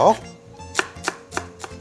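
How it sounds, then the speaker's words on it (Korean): Four crisp knife chops slice green onion on a cutting board at a steady pace, close and clear, after a brief faint sound at the start. "다음으로 대파 한 대 송송 썰어줄게요."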